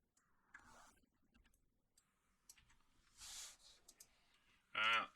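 Computer mouse clicks sound while working in Inkscape, a few sharp, close taps scattered over a quiet background with soft breaths and a brief voice between them.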